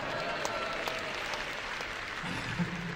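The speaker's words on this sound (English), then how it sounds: "notice how the audience just burst into a spontaneous round of applause there" A stage show audience breaks into steady applause that carries through the whole moment, with a brief voice near the end.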